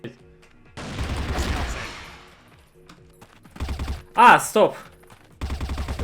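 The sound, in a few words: gunshots in video game Crossfire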